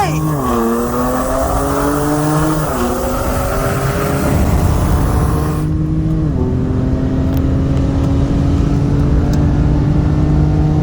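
A 2020 BMW M340i with bolt-ons on E85 and a 2016 BMW M3 with downpipes roar through a roll race from 40 mph, engines droning loud and close as the pitch climbs and drops through gear shifts under constant wind noise.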